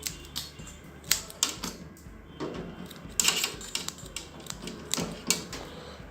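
Wire is cut while an electrical timer unit for a semi-automatic washing machine is being fitted, giving a close series of sharp, irregular snips and clicks with rustling handling noise between them.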